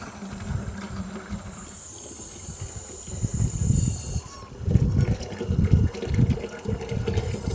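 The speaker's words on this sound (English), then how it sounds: "Then you will just fill that up completely" Running water pours into a watering can, rising and gushing in bursts, with a high hiss fading early on; close and moderately loud.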